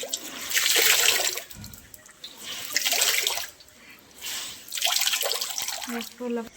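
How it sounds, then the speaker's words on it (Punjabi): Wet winter clothes such as shawls and coats are gently pressed by hand, sending water splashing and trickling out in three close, surging bursts with quieter dripping between them. A brief voice is heard near the end. "ਇਸ ਤਰੀਕੇ ਨਾਲ ਨਸ ਲੈਣਾ ਤੇ ਇਹਦਾ ਪਾਣੀ ਕੱਢ ਦੇਣਾ ਐਕਸਟਰਾ ਪਾਣੀ"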